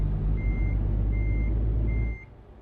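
A truck in a driving game backs up with its reversing alarm, which gives three evenly spaced beeps over a loud engine rumble that drops away near the end.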